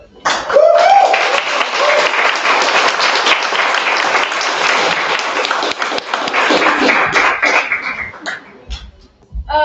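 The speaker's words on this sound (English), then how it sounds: "Let's give her one more round of applause, everybody." An audience at a Finnish brewers' championship event gives a dense, sustained round of applause lasting about nine seconds. Many hands clap together, then the clapping thins out into scattered claps before a final burst.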